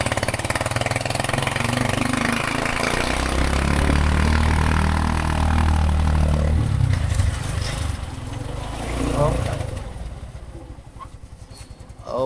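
A tricycle's small motorcycle-type engine idles nearby with a noisy exhaust, a steady low sputtering rumble that fades slightly toward the end, without any talk.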